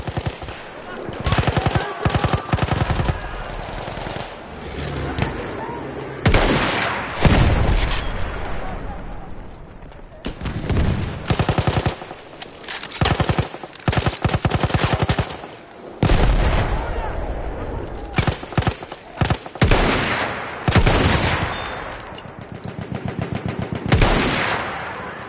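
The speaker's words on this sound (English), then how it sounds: "Machine gun! One of theirs!" Bursts of machine gun fire in the World War I shooter Battlefield 1, loud and close, with rapid repeated volleys, heavy booms and a battlefield din that fills the scene, shouted game voice lines mixed in.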